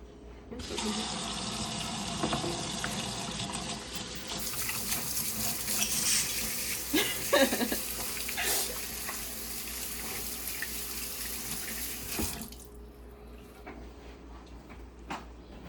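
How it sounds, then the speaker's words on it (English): Running kitchen tap with hands being washed underneath, a steady close splashing stream that starts and stops abruptly, with small clinks and sink noises in the middle. "when you're in the kitchen, you gotta wash your hands."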